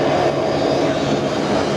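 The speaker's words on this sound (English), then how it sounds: "Oh no, geez, they're noisy, the old Saab 340s." Old Saab 340 turboprop airliners run their engines at Sydney Airport, a steady loud propeller drone close by that holds for the whole stretch with no talking.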